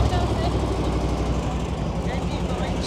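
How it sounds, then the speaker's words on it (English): An old engine runs steadily close by at a busy 1940s festival, a continuous rumbling drone that fills the whole stretch with crowd chatter and voices over it. "You just hear this one, hear the old engine going."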